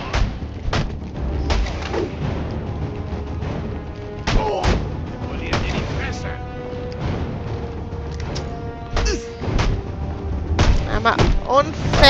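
Weapon fire and heavy thuds in the Deathstroke video game, scattered bangs and booms over a busy game soundtrack, with a voice talking at times.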